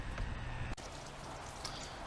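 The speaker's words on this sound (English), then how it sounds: "It's raining out right now, so I can't do much work." Rain falls outside on a rainy day, a steady, close, even hiss of drops that carries on throughout, with one soft click partway through and no speech.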